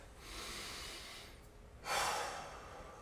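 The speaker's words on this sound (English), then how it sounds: "Take your breath." Two deep breaths taken during a squat mobility hold: a long, airy inhale followed by a brief pause and a louder, sharper breath, close and alone in a quiet room.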